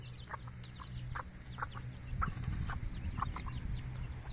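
Chickens cluck steadily in a fenced farm pen, with repeated short calls and faint chick peeps over a low, busy background murmur close by.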